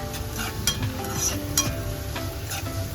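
Chili, garlic and onion fry in a pan with a bright, crackling sizzle, while a utensil scrapes and taps rhythmically against the metal several times.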